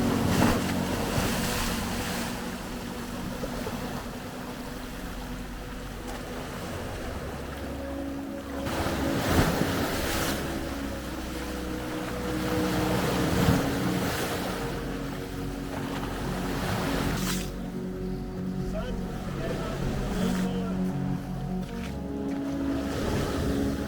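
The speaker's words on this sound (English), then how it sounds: "I love the sound of the crashing waves." Waves wash in along the Adriatic coast of Croatia with a continuous roar that swells and recedes a few times, mixed with gusty wind buffeting the microphone and no voices.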